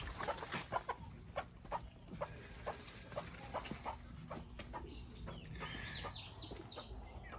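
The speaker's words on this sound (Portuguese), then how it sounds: "Aqui tá minha outra galinha polaca." A Polish hen on a farmyard gives soft, repeated clucks in short bursts, with other fowl and faint bird calls around it and no talk.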